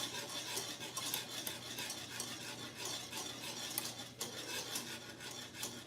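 A filling for French silk pie is stirred in a pot on a home stove, a steady close scraping and swishing of a spoon against the pot with no voice over it.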